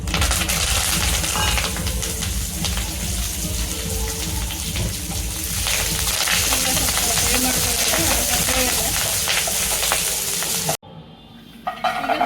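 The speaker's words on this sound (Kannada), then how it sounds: "ಕರಿಬೇವು ಹುರ್ಕೊಳ್ಳೋಣ ಸ್ವಲ್ಪ." Curry leaves fry in hot oil for an idli pudi spice powder, giving a steady, loud crackling sizzle with stirring that runs continuously, then cuts off abruptly near the end.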